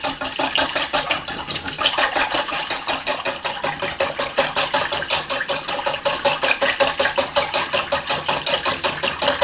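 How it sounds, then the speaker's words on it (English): A whisk beats a vinaigrette with Dijon mustard in a bowl, making a fast, even run of sharp ticking strokes, about five per second, close up and continuous with no talking. "Okay, and we whisk this up in here also."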